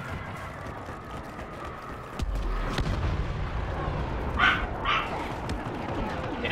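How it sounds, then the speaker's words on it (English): Dogs bark several times in the Star Wars Battlefront Walker Assault game, with the barks mixed into a dense battle soundscape of gunfire and booms and a short burst of distant chatter. "Damn dogs."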